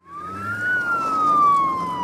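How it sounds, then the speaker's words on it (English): A single ambulance siren wails loudly in a Simpsons cartoon scene, its tone climbing and then slowly falling over about two seconds, with no talking. "they had to call an ambulance"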